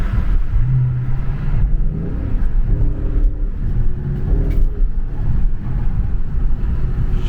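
A Dodge Charger Scat Pack V8 rumbles and revs steadily while driving through snow, its deep engine drone loud and continuous with rising throttle swells.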